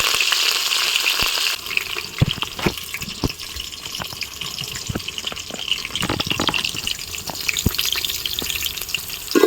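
Onions and curry leaves frying in a pan, a loud continuous sizzle and crackle with frequent sharp pops and stirring clatter throughout, close up and without talk.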